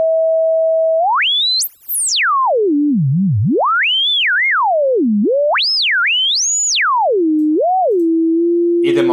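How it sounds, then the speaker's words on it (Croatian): Warbling R2-D2-style robot beeps made from a synthesized pure tone, swooping rapidly up and down in chirps and trills before settling into a steady hum, loud and isolated. "Ovako se glasa. Evo ga R2D2."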